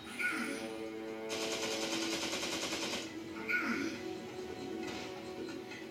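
A Gatling gun in Resident Evil 4 fires in rapid mechanical bursts, with two long sustained volleys and shorter spin-up rattles between them. The gunfire sounds moderately distant and sits in a busy game mix.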